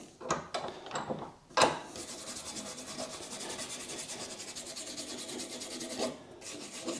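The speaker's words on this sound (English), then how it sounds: "I'm going to put them on the polisher. Just do these smooth parts," A polishing machine smoothing Ducati 900SS bevel motorcycle foot pegs, with a steady rubbing, rasping whir after a few sharp knocks and handling scrapes, moderately close and without talk.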